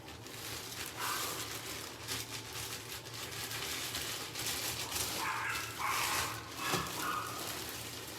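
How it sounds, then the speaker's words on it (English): A dog barks repeatedly in short bursts at middle distance inside a home, over a steady background hum, with no talk during the barking. "He knows I'm live, but he's just barking like it's nobody's business."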